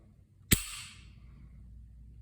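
A Beretta APX A1 pistol is dry-fired indoors, giving a single sharp, crisp trigger-break snap close by, followed by quiet room tone, with no talking.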